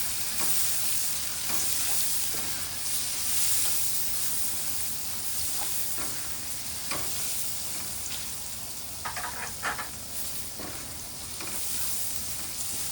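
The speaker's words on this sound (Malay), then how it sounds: "Tumis bawangnya sampai naik bau aroma wangi." Onions sautéing in a pan for mee goreng make a dense, continuous sizzle and hiss with occasional louder spatters and stirring scrapes, close and steady throughout, no speech.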